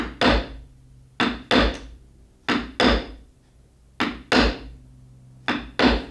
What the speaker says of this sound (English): we're going to simply go along each one of those marks with a flat chisel